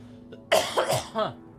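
A person gives a short, sharp cough, close to the mic, followed by a second rough, throaty burst, against a quiet room.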